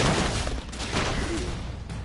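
Rapid gunfire bursts rattle from the video game Broforce, dense and continuous across the clip, with sharp cracks layered over a busy game background.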